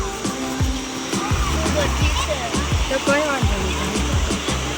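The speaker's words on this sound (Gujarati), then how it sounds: "જુઓ કેટલું ફાસ્ટ પાણી આવી રહ્યું છે" Fast water rushing over the Umeta check dam, a loud continuous broadband roar filling the whole clip, with scattered voices and splashes from villagers washing clothes nearby.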